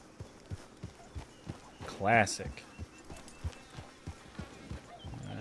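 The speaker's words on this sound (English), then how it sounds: "Oh, there's a bunch of horses" Horses' hooves clip-clop steadily in Red Dead Online, a regular hoofbeat rhythm of several horses moving nearby, with a brief whinny-like burst midway and someone talking over it.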